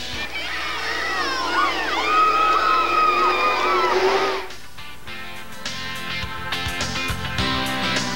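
Stock car race fans shouting and cheering in the grandstands, a loud excited crowd roar with whoops for about four seconds, then it cuts to a quieter busy track ambience with music-like tones.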